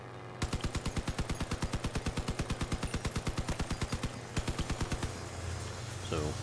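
Vehicle weapons fire in the Crossout video game: a long, fast, evenly spaced volley of loud shots that pauses briefly, bursts again, then stops, with no speech.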